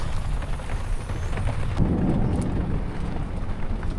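Heavy rain pours down in a thunderstorm during a flash flood while truck camping, a steady dense roar with a deep low rumble swelling near the middle, close and loud throughout.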